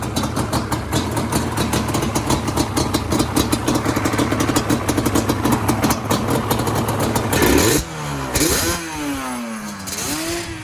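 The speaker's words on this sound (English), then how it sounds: "This engine has a fresh top end on it. It runs really good." A 2004 Yamaha Banshee ATV engine with a fresh top end and FMF pipes idles loudly and steadily with a fast, lumpy putter, then briefly blips and drops before settling back to idle.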